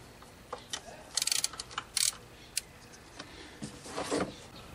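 Ratchet on a socket wrench with an extension working on the throttle body of a 2004 Ford F150 4.6L, giving short bursts of close clicking with small knocks and pauses between them.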